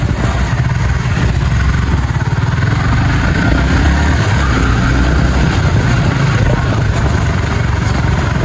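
A 155 cc motorcycle engine runs while the bike is ridden, giving a loud, continuous low throbbing drone with steady wind and road rumble close by and no talking.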